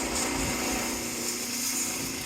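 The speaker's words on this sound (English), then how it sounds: "This unit just hums right along." A BUDDY 400 lb batch tumble mixer runs with a steady, even mechanical hum, constant and moderately quiet with no knocks or irregular noises.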